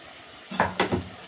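Ginger garlic paste goes into a hot pan with chicken cooking: a couple of short, sharp sizzling bursts with utensil scraping, close by.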